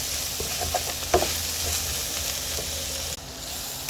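About ten garlic cloves sauté in a pot for beef stew, giving a soft steady sizzle with one brief clank of stirring partway through.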